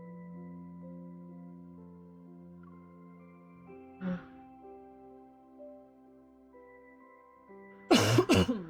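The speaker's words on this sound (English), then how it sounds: "I've been coughing a lot today." A single person coughs and clears their throat indoors, one short rasp partway through and a louder burst of coughing near the end, against a quiet background with faint music.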